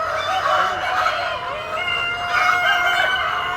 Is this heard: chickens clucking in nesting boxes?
yes